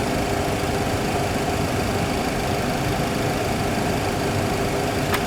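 Turbine engine of an aircraft spooling up during an engine start, heard as a steady, loud broadband roar with a faint whine, continuous throughout and no speech over it.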